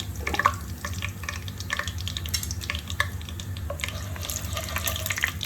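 Cumin seeds dropped into hot oil in a pan for brinjal bharta, giving a steady close sizzle and crackle with a constant low hum underneath. No one speaks.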